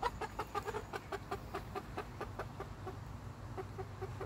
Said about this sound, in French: Les poules sont pas mal vite quand elles veulent.